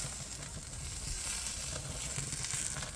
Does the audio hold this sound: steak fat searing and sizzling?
yes